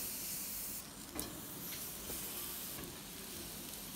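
Jamaican jerk chicken cooking in a pot, a quiet, steady sizzle and hiss with faint steam, a few soft clicks from stirring or flipping, and no voices.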